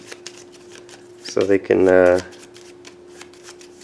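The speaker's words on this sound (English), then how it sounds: "rival rancher gets their cards back. We'll shuffle them up" A deck of game cards for the tabletop game Tiny Epic Dinosaurs is riffled in a rapid, close, loud burst of fluttering snaps, with someone talking over ticking sounds before and after.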